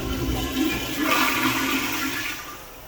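A Sloan commercial toilet flushes loudly at close range right after its valve is opened, giving a steady rushing surge of water that tapers off near the end. No voices are heard.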